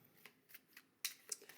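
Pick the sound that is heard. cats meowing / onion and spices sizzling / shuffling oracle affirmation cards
shuffling oracle affirmation cards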